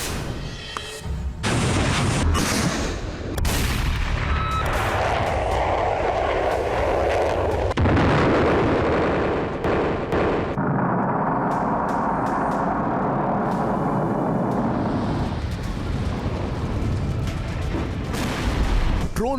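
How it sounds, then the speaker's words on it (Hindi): Heavy missile explosions from strikes on Ukraine boom one after another, deep rumbling blasts with crackling bursts and a long roaring tail between them. "धमाके पर धमाका, विनाशक मिसाइलों से यूक्रेन पर प्रहार।"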